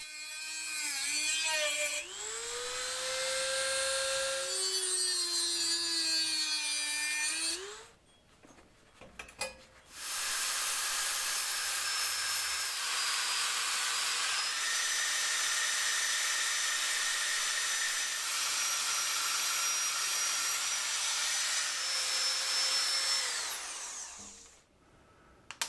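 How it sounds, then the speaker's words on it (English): A Dremel whines through braze-ons on a Surly steel bike frame, pitch rising and falling as it bites, then after a brief gap a handheld belt sander roars steadily to smooth the spot, both loud and close. "I cut them off with a Dremel and then smooth everything out with a handheld belt sander."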